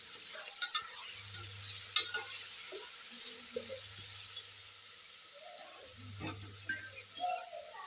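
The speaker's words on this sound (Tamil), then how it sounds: "தண்ணி ஊற்றுற பாருங்க." Water poured into a hot pan while cooking suji and rice upma, with coconut oil mentioned, gives a steady close sizzle and bubbling hiss, broken by a few soft stirring clinks and low rumbling surges.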